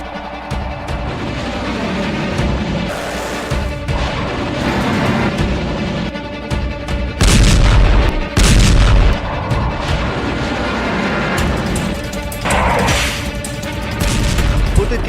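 Explosions from a US B-2 bomber strike on Yemen, a dense run of heavy booms and cracking blasts with rumbling aftershocks, loud and continuous, partly overlaid by voices.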